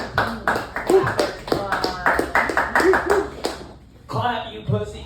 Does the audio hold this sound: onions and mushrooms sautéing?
no